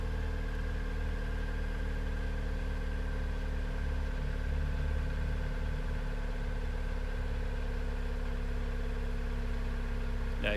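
A Jeep JL engine fitted with an aFe MACH Force XP Hi-Tuck axle-back exhaust settles into a low, steady idle after warm-up, a smooth constant hum with deep even tones and no speech.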